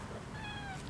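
A Persian cat gives a single drawn-out meow, clear and fairly close, with a light background hiss and no talking.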